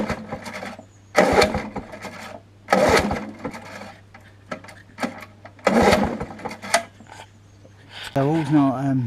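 A vintage Masport Iron Horse two-stroke lawn mower is started again and again, giving four short, rough bursts of engine noise separated by pauses over a low steady hum, with a voice speaking at the end.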